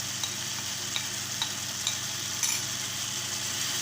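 Masala frying with sautéed tomatoes and drumsticks for a drumstick sambar, giving a quiet, steady sizzle with a few faint stirring clicks and no talking.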